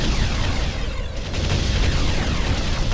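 Artillery bombardment in the real-time strategy game Ground Control rumbles as a continuous loud wash of deep explosions and booms, with a brief dip before the roar resumes.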